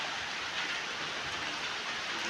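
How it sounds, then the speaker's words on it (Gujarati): Steady, dense rainfall pours down without pause, a loud continuous hiss of heavy rain with no voices. "હમણાં લગભગ વરસાદ બહુ મોટા થતા આવે છે અને પાણી પાણી થઈ ગયું છે"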